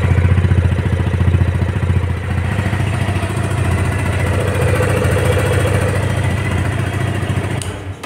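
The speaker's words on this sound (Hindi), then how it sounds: "तो गाइस ऐसा कुछ इसका एग्जॉस्ट नोट था" A Yamaha FZ25 motorcycle engine idles and revs loudly up close, its exhaust rumbling steadily with a throbbing, clattering tone for several seconds.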